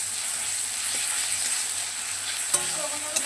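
Onion frying with ginger-garlic paste in a pan for a fish curry, giving a steady close sizzle with light stirring, then a sharper scrape and clatter toward the end.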